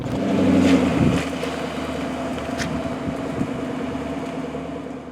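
Ford GT sports car on the road, its engine a steady low drone from inside the cabin, slightly louder at the start and then holding an even, continuous hum.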